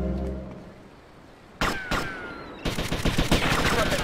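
Gunfire in Grand Theft Auto Vice City: two sharp, loud single shots a moment apart, then a sustained rapid burst of automatic fire that keeps going to the end.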